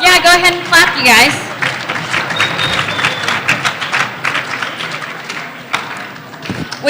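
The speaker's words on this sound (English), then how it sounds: "go ahead and clap, you guys." Students in a school academic assembly break into scattered clapping and cheering after a spoken announcement, with voices heard over the start and the applause continuing unevenly beneath crowd noise.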